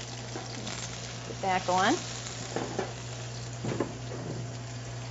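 Peppers and onions dropped into hot oil while making a cheesy chicken enchilada bake, giving a steady close sizzle with stirring and a low hum beneath, as someone talks briefly over it.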